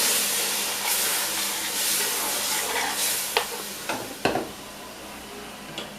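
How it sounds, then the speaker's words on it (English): Beef broth gravy bubbling and sizzling in a hot pot, with a spoon stirring through it; a steady hiss runs throughout, and a few sharp scraping clacks land near the end. "I'm going to give it a stir."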